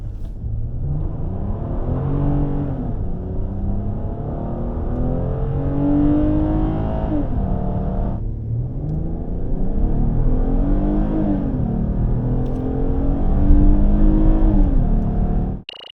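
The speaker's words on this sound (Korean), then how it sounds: "그럼 그랜저 가속 성능을 볼까요?" A 2023 Hyundai Grandeur 3.5 gasoline AWD accelerates hard, its engine rising steadily in pitch through gear shifts, loud and close with a brief dip between gears and no talk.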